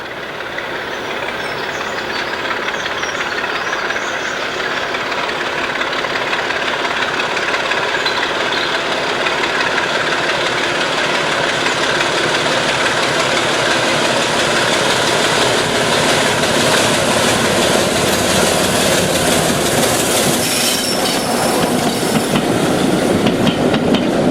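Type 2 diesel locomotive 26024 on the Bo'ness and Kinneil Railway runs with a loud, steady engine throb and rumble that builds slightly over time, heard close and without talk.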